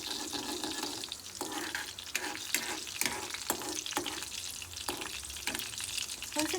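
Coriander seeds fry in a hot pan for a Konkani taro-leaf palya, giving a steady close sizzle broken by repeated scraping and tapping strokes of a spoon stirring.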